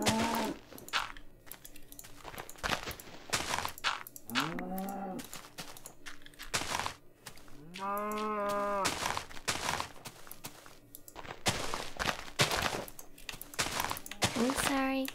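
A cow in the Minecraft video game moos a few times with drawn-out, tonal calls, amid clicking keyboard and game sounds, with someone talking around them.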